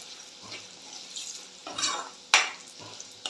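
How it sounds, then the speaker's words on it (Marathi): Mustard-seed and spice tempering sizzles and crackles in hot oil while a spoon stirs and scrapes the pan, with a sharp metallic clink partway through. "फोडणी छान ढवळून घ्यायची म्हणजे ती खमंग आणि चुरचुरीत होणार आहे"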